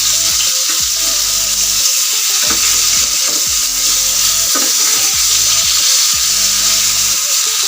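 Rohu fish pieces rubbed with salt and turmeric fry in oil, a loud, dense, continuous sizzle and crackle close by, with intermittent lower scraping or clattering as the pieces are moved.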